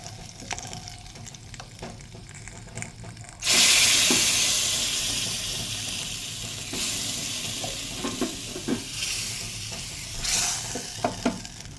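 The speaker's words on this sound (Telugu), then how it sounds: "తాలింపులో ఇలా పోపు అనేది వేసేసుకున్నాం కదా" Tempering spices hit hot oil in a home kitchen and burst into a loud sizzle. It settles into a steady crackling hiss with occasional stirring taps and no talk.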